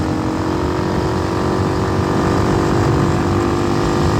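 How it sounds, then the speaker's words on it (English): A Hawk 250 motorcycle with a swapped Loncin RE250 engine accelerates in sixth gear, its loud, steady engine drone holding constant throughout with no pauses. "I could crack the throttle and it pulls"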